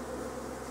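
A steady, low droning buzz of bees, continuous and close, with no other sounds breaking through.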